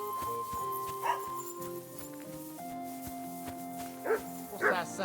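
A dog in the medieval video game Kingdom Come: Deliverance II barks a few times, in short sharp bursts over background music and game sounds.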